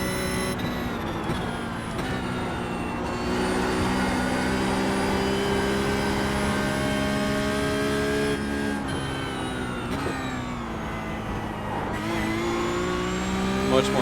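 Porsche 992 GT3 Cup race car in iRacing, its engine screaming at high revs. It holds a loud, steady pitch with several quick gear shifts and dips, then climbs again, with no voices over it.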